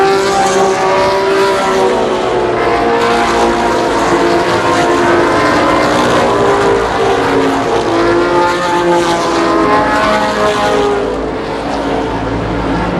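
ARCA stock cars racing at Columbus Motor Speedway, a dense, continuous roar of many engines close by at full throttle, loud and steady for the whole stretch without talk.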